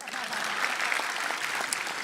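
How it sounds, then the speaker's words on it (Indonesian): Crowd applause during a stand-up comedy roast show, a steady, moderately loud wash of many hands clapping with faint voices mixed in underneath. "Boleh tepuk tangan."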